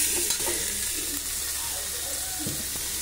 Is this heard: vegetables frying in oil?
yes